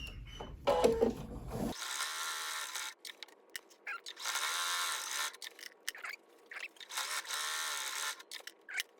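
A sewing machine runs in several steady bursts while stitching seams across a quilted glass case. The whirring motor and rapid needle clatter are loud and close, with short stops between passes.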